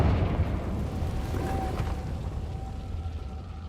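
A Confringo fire spell blasts in Hogwarts Legacy, a loud sustained rumbling boom that fills the space without talk.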